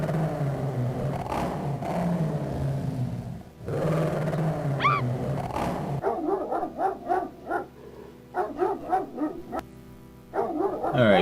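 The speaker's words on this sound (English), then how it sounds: "so angry dog" An angry dog barking in the King's Quest 7 adventure game, a run of sharp, repeated barks and yips in the second half, loud and close over game background sounds, with no talk.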